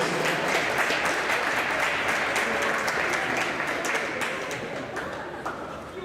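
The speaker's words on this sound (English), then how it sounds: "have a nice round of applause for our all-tournament team" An audience at a 2014 AAA State championship hockey game in an ice rink applauds the all-tournament team, a broad, steady round of clapping from many hands that slowly tapers off toward the end.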